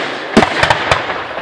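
Fireworks at the 710th village festival in Vielitz burst over a lake in a quick run of about four sharp booming cracks, fairly distant, each followed by a short rumbling decay.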